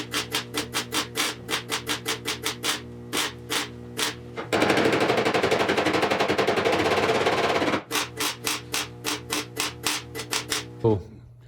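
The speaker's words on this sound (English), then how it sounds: "we're gonna go and weld the other one inside." Welding on the rear valance of a 1974 Triumph TR6: loud, evenly spaced crackling pulses of spot welds, broken by a few seconds of continuous sizzling bead, then the rhythmic pulses return.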